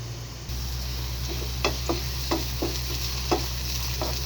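Chopped onions with a pinch of salt fry in oil in a frying pan, a steady hiss cut by a handful of spaced spatula taps and scrapes against the pan, near and with no talk.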